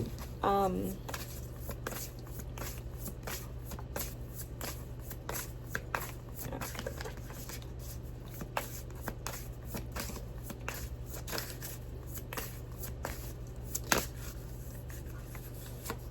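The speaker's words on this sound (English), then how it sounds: "I'm trying to get the rest of your cards out" Tarot cards being shuffled and drawn during a reading, heard as soft scattered card flicks and slides spread across the clip under a steady low hum, with a louder snap near the end.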